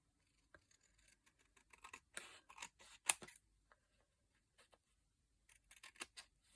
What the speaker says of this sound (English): I'll cut that at the top with scissors